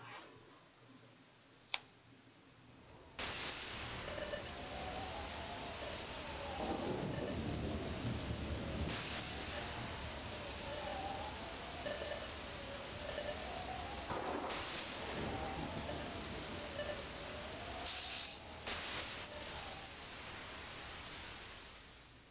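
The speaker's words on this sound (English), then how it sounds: "Chapter 1, A Storm at Sea." Storm at sea from the video game Pokemon Mystery Dungeon: Explorers of Sky: steady rain hiss with several sharp thunder cracks and rumbles spaced across the scene, plus a faint melodic game tone underneath.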